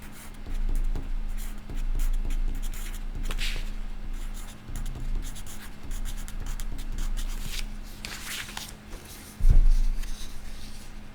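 Pencil writing an answer on paper during a second-grade math lesson, soft repeated scratching strokes close by, with a louder tap near the end.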